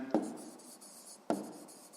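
Two short strokes of handwriting, numbers jotted by hand on paper, each a brief scratchy mark close by, separated by about a second of quiet.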